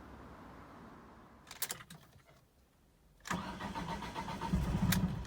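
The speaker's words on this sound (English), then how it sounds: "we're going to start the car, let it run till it conks out" A car engine cranks with a few stuttering turns, catches and then runs at a steady idle, rising to a fuller, rougher running sound while the fuel system is being run dry.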